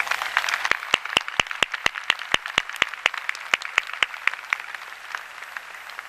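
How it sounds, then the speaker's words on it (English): Graduates and families at Virginia Tech's class of 2012 commencement, during Michelle Obama's speech, clap in a sharp, rhythmic unison beat of evenly spaced loud claps over a softer bed of general applause that loosens toward the end. "let's give them another round of applause, right?"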